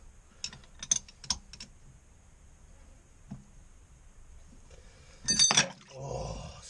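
A ratchet loosens a bolt on a boat transmission aboard a motor vessel, with a few quick clicking bursts early on, a lone click midway and a louder burst of ratcheting near the end, close by.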